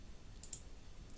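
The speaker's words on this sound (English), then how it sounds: "I'm clicking on the word list, and here it is." Computer mouse clicking on a word list: a few faint, sharp clicks, two close together and a louder one near the end, in a quiet room.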